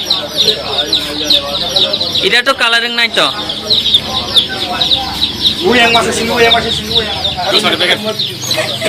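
Chickens clucking nonstop at close range at a market in Teliamura, with a dense layer of high chirping and clucking and people talking over it.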